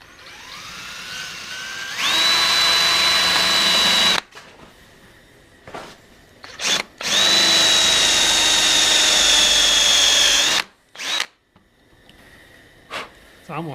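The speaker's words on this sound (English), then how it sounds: "we're just trying to drill through this" A power drill bores through a plastic GoPro helmet swivel mount part, giving two sustained, close, whining bursts separated by a pause filled with handling noises.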